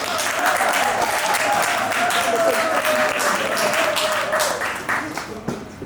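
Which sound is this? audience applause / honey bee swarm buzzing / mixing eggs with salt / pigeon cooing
audience applause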